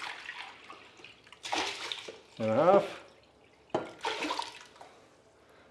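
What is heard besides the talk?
water poured into a pot for rice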